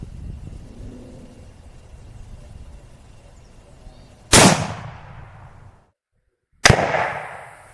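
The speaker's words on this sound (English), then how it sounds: "We're shooting at it's about 50 yards with a 270 core locked Remington load through a Remington rifle" Two sharp, loud rifle shots from a Remington rifle firing .270 Remington Core-Lokt loads at about 50 yards, each a sudden crack with a fading tail, spaced a couple of seconds apart after a low quiet outdoor background.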